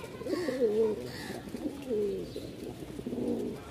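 Pigeons from a Rajshahi flying breed coo softly and close by, a few rolling, throaty calls repeating over about four seconds against a quiet background.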